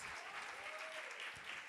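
Applause from a church congregation at a women's seminar, steady and fairly faint throughout, with a brief thin tone sliding across the middle and no clear speech over it.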